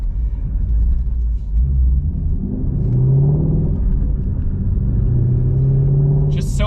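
A 2017 Ford Mustang GT350 accelerates with a deep, loud, continuous engine rumble that rises in pitch as it pulls, heard from inside the car.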